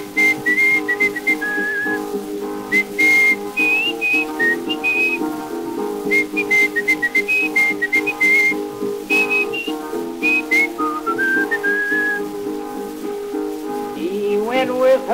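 Tuneful human whistling from a 1925 recording, carried over steady string accompaniment, with bright melodic lines rising and falling in phrases throughout and no voice.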